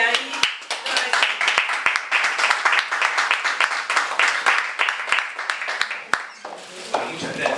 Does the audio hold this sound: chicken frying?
no